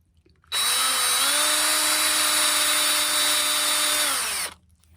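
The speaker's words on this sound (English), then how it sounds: "Drill a few spots in here. They don't have to be deep." A power drill bores into a walking stick, whining loudly and steadily for about four seconds with a slight pitch shift as it bites, then spinning down, close and alone with no talking.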